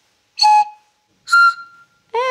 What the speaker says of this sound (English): when you blow down it in a special way, it makes a lovely whistling noise.